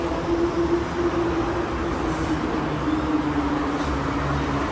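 Married four-coach third-rail electric train passing, a steady loud rumble with a faint wavering whine, close and continuous.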